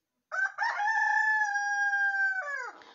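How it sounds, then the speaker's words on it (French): A rooster gives one loud, clear crow close up, a long sustained call that rises, holds and trails off over nearly three seconds against silence. "le coq ne chantait pas depuis que je suis ici"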